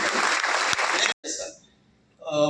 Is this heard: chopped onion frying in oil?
no